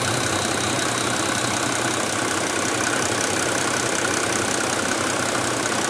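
A 1993 Mercedes W140 S350 turbo diesel idles steadily, giving a dense, unbroken engine drone and rattle at constant loudness throughout, with no talking.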